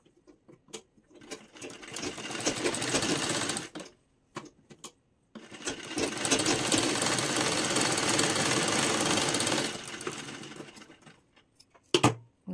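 A sewing machine stitches a folded fabric strip for a Sabyasachi-style blouse, running in two sustained bursts of fast rhythmic clatter separated by a pause, with small handling clicks and no talking.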